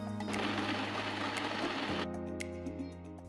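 A kitchen blender whirs and grinds steadily while blending soaked cashews, dates and milk, then the motor note drops as it slows near the end, heard close up.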